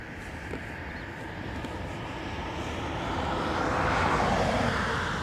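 An airplane on a flight to Toulouse passes at Dublin Airport, a broad steady engine rumble that slowly grows louder toward the end, heard at a moderate distance without voices.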